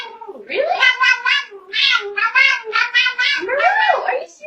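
AI-generated cat meowing in a string of loud, drawn-out yowls and caterwauls, close and insistent, with brief gaps between calls.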